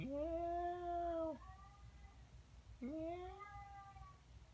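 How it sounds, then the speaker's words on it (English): A cat meows twice from just outside a door, each call long, drawn-out and strongly tonal, with a short pause between them and faint room noise underneath. "Kitty cat is outside the door. Do you hear it?"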